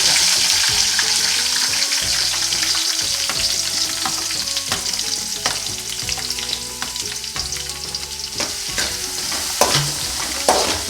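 Onions sizzle steadily as they are stirred and sautéed in a pan for a homestyle egg roast, a continuous loud frying hiss with repeated scraping of the utensil, no talking.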